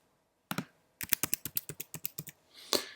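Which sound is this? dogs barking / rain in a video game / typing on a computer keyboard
typing on a computer keyboard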